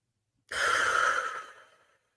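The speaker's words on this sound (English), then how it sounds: "Let's take a breath together." A single slow, deep breath, soft and close, rising suddenly out of silence and then gently fading away.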